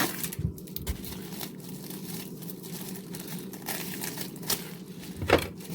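Plastic wrapping on a package crinkles and rustles as it is cut open with a sharp knife, soft scattered crackles with a sharper snap near the end, close by and fairly quiet.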